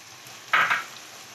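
A brief burst of sizzling as chicken with finely chopped carrot and capsicum hits a hot pan for a spaghetti dish, one sharp hiss that fades quickly against a quiet kitchen background.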